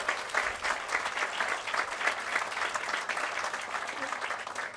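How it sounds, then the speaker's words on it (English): An audience at a STEM building announcement gives students a big round of applause, a dense, even roll of many hands clapping that holds steady throughout at moderate distance. "Let's give them a big round of applause for everything they do"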